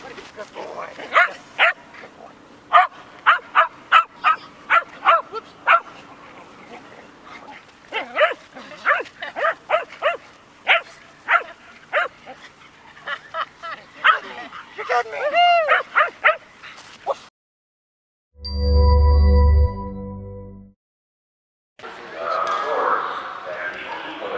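Dogs at an agility event bark in a steady series of sharp, evenly spaced barks, then give a quicker run of yips before a loud thudding burst and a stretch of muffled background noise.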